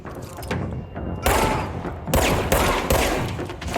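Loud bursts of incoming gunfire strike the player in the Control shooter on PC, arriving in several heavy volleys with thuds and crackling impacts and brief gaps between them.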